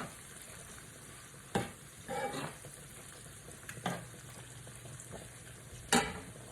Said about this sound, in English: So we're going to stir this together a little bit.